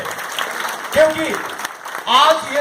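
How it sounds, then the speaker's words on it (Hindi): Audience applause at a seminar in Patna, Bihar, a steady crackle of clapping running through, with a voice speaking over it in two bursts. "जोहार ताली से स्वागत करें उनको हम"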